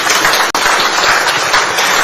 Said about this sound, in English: with a resounding and a deafening round of applause, please.